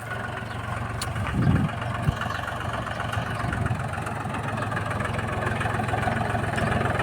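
An old Mahindra tractor engine runs at a steady idle-like chug, a continuous mid-low rumble at moderate distance with a brief bump partway through.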